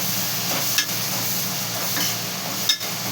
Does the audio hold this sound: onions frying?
yes